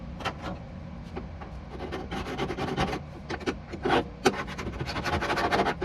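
A scribing scratch on a steel roll cage part for a 1989 Mustang GT, heard as a series of close, uneven rasping and scraping strokes that continue with irregular rhythm for several seconds.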